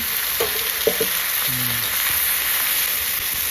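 Close, steady sizzling of vegetables frying in a hot wok for Thai jap chai stew, with a few light scrapes of stirring early on.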